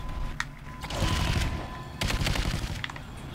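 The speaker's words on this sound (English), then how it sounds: "she has a very, very deadly turret, which can demolish you if you're not careful" Sustained turret gunfire in Call of Duty Ghosts Extinction, loud rapid automatic bursts in two long stretches with brief gaps, close and continuous over game ambience.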